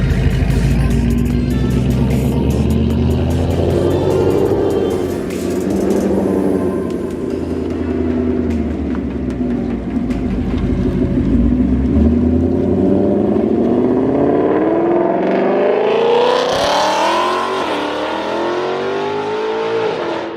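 A loud Gen 3 Ford Mustang with a 10-speed transmission revs and drives nearby, its deep engine roar swelling and rising in pitch through sustained acceleration and shifts, continuous throughout.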